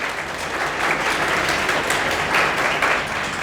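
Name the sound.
audience applauding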